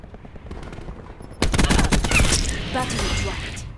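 ICR rifle fire in the Call of Duty Black Ops 4 beta: after a quiet stretch with scattered light taps, loud rapid automatic bursts break out and continue with overlapping shots and game effects.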